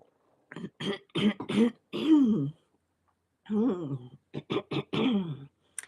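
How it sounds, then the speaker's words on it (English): Someone clears their throat repeatedly in two close, voiced bursts separated by a short pause, loud and near, with a groaning vocal quality. "Let's do a little clearing in the throat."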